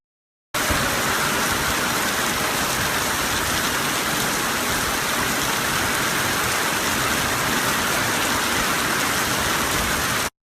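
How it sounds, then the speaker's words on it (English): Heavy typhoon rain pours down in Aurora, a dense, unbroken roar of drops striking surfaces, loud and constant throughout with no voices. "Non-stop rains throughout the day."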